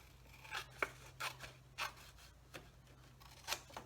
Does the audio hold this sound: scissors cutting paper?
yes